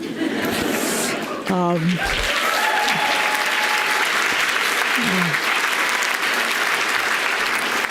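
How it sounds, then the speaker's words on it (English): Steady applause fills a recognition ceremony hall, with a few voices and light laughter mixed into the continuous clapping of the audience. "I appreciate your applause"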